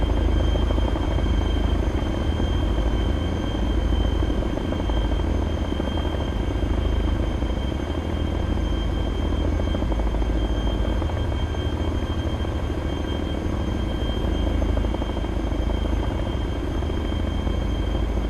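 A helicopter in ArmA 3 runs its engine up toward takeoff, a loud, steady turbine whine over a dense rotor rumble that holds constant and close throughout.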